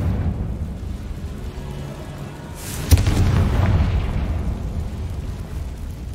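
Confringo fire spell explosion from the video game Hogwarts Legacy, a single sharp blast near the middle followed by a rumbling burst that fades over a few seconds against steady low background ambience.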